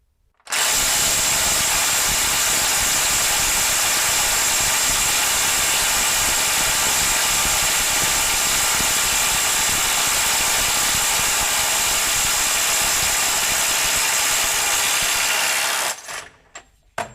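A RIDGID SubCompact impact wrench on a 2 amp-hour battery runs in reverse in mode 3, hammering continuously for about fifteen seconds at a loud, steady rattle before stopping abruptly.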